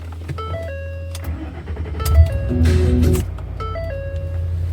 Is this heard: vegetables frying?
no